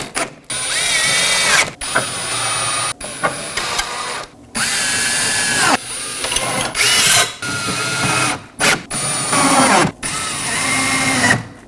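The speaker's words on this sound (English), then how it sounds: "Now for our T15 torque screws, I'll be just snugging these down." A power driver snugs T15 Torx screws during rear shock absorber replacement on a 2018-2024 Chevrolet Equinox, giving several loud, close whirring bursts with short pauses between them.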